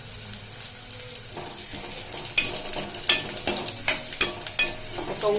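Sliced onion sautéing in a hot pan with a few leaves, a steady sizzle that builds into brisk, repeated stirring scrapes and clacks, close and fairly loud.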